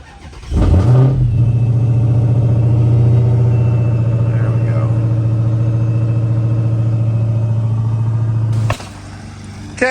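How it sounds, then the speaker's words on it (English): A car engine cranks and catches, then settles into a loud, steady idle close by for several seconds while the car is moved in a home driveway, before the engine cuts off. "Let's get these cars moved back in the driveway."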